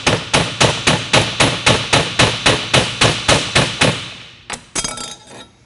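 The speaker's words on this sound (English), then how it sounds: "take the flat spot of the hammer and drive the ring off" A ball peen hammer strikes a metal ring on a truck wheel spindle in a steady run of about fourteen sharp, ringing blows, loud and close, then a couple of final scattered hits.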